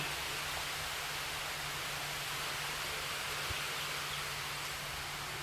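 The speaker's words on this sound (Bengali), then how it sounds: "বৃষ্টি কিন্তু এখনও পড়ছে" Steady rain falls outside a cloth-sheltered spot, a soft even hiss that holds without a break, with a faint low hum underneath.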